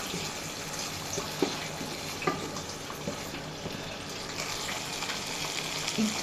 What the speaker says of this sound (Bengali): একটু হালকা পানি দিয়ে দিব